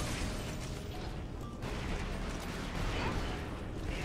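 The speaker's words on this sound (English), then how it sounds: "I'm running into a hail of gunfire" A hail of gunfire in the video game Folklore: a dense, continuous wash of rapid popping bursts and mechanical clatter holds at an even, moderate level with no talk over it.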